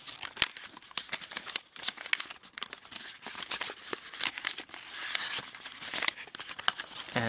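Sheets of paper being folded and creased by hand into an origami notebook, making dense, close crinkling and crisp rustles that continue throughout without any voice.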